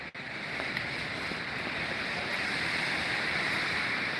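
A steady, loud roar of wind gusts across the microphone at Beacon Rock State Park, a dense continuous rush that keeps up from start to finish after a brief dip at the very beginning.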